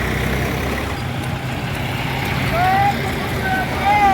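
Low, steady rumble of many tractor engines running together in a farmers' tractor march near Rajpura, with a few brief rising tonal whines near the end and a murmur of activity around it.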